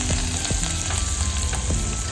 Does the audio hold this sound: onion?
yes